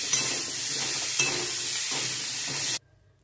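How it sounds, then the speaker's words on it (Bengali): Food sizzling steadily in a frying pan after salt and spices are added, with stirring scrapes at regular intervals, then an abrupt stop into silence. "দিয়ে আবার এটা ভাজবো।"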